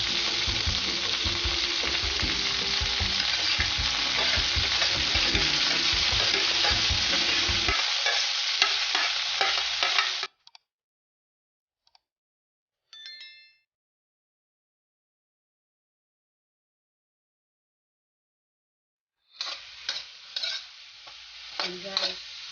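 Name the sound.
sautéing vegetables for pancit guisado (bihon) in a pan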